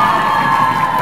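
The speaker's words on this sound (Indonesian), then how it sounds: "Tepuk tangan lagi dong untuk Dewan Juri." An audience at a high school quick-quiz competition cheers and claps loudly, a steady wash of crowd noise with no speech over it.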